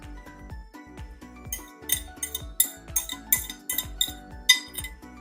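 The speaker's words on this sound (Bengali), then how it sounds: "ডিমের যে ব্যাটারটা করেছি সেটা এবার দুধের সাথে মিক্স করছি" Egg batter being stirred into milk for caramel custard, a utensil clinking repeatedly and rhythmically against a bowl, bright sharp taps with a few louder hits, close up and with no talk.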